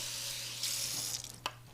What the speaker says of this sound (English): So just a light rinse, wash, soap and water is all you need.